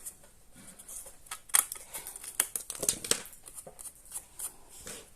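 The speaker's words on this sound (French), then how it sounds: "Et on coupe avec les ciseaux." Scissors snip through paper while cutting a rounded shape for a locomotive-shaped candy box craft, giving a series of close, crisp cuts with soft paper rustling between them.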